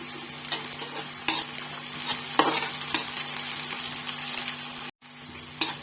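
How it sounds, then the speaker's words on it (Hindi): Chopped garlic and onion fry in a pan with a steady close sizzle, stirred with a utensil that scrapes and clinks a few times, briefly cut off near the end before the frying resumes. "तो ये कटे हुए लहसुन और प्याज को भून रही हूँ मैं"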